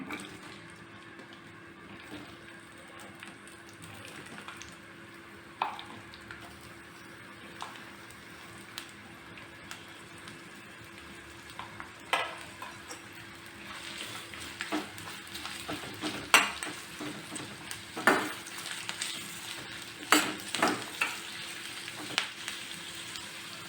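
Three onions and a whole bulb of garlic frying in three spoons of oil, a steady soft sizzle with scattered sharper crackles and stirring scrapes that grow busier toward the end, with no voices.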